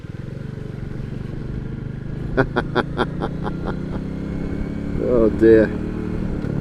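A motorcycle rides steadily through flood water, its engine running under a voice, with a splash of water rising near the end as the bike pushes through the flooding.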